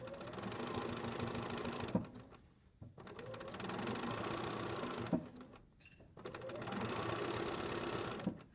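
A sewing machine runs in three long steady bursts, stitching the side seam of a fabric tailored mask, with brief pauses between runs and no talking.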